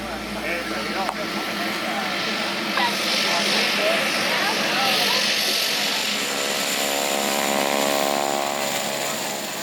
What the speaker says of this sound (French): L'avion qui atterrit devant nous.